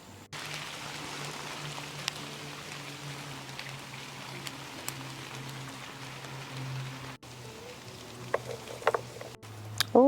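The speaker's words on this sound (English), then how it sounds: "I'm fighting the rain right now, you guys, so I'm gonna have to try to hurry." Rain falls outdoors over a vegetable garden during a September harvest, a steady, soft patter across the whole stretch with a few sharper nearby drops and rustles toward the end, and no talking.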